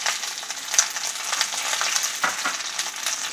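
Diced capsicum and onion sauté in hot oil for chilli paneer, giving a close, steady sizzle broken by the scrape and shuffle of repeated stirring. No one speaks.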